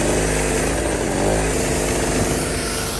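A generator salvaged from a dump runs steadily and loudly nearby, a constant droning engine with no pauses or talk.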